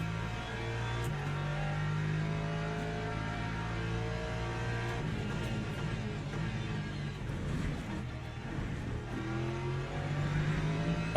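Several LMP3 prototype race car engines in the Le Mans Ultimate sim racing game drone and rev steadily with sustained harmonic tones, shifting pitch through gear changes, loud and continuous throughout.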